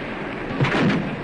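Depth charges explode near the submarine Casabianca: a deep, rumbling blast swells up through steady noise, with a second heavy thump following closely, muffled and booming underwater.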